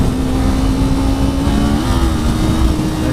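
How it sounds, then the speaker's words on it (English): Kawasaki Z400 motorcycle engine droning steadily at close range during a downshift, the slipper clutch letting the revs shift with a brief pitch change partway through, with no talk. "Let's hear a slipper clutch working."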